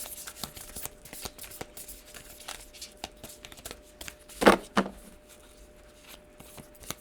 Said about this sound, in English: I'm pulling some cards from the Oracle deck because they started popping out.